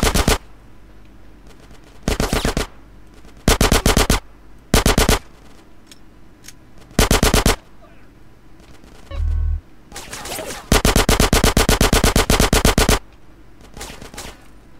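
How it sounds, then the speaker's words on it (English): Gunfire in GTA San Andreas: repeated loud bursts of automatic weapon fire, short volleys separated by pauses, then a long sustained burst near the end, with a low thud in between. "Get some suppressing fire in there!"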